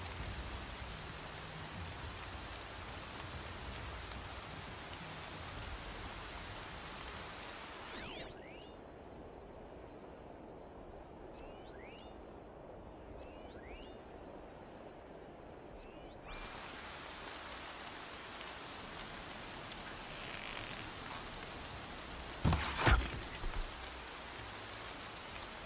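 Steady rainfall in a video game, a dense continuous hiss of drops on surfaces lasting throughout, with a brief whooshing passage in the middle and a short thump near the end.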